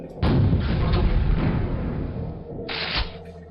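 A Quake grenade launcher fires twice, a loud booming blast sustained for about two seconds, then a second shorter burst, close and alone.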